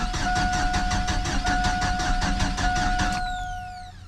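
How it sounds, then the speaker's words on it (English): A GMC Sonoma engine cranks slowly without firing, with an even, labored chugging rhythm from the starter for about three seconds, then it stops, leaving a fading whine. "It's not turning over very fast, but it should start."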